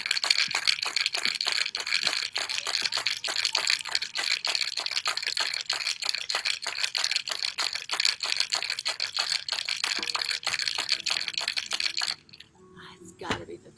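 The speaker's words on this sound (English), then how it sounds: "I'm going to shake this for about 15 seconds." Ice rattles hard inside a cocktail shaker, a fast, loud, steady rhythm of clacks that runs for about twelve seconds before stopping abruptly, leaving a few faint handling noises.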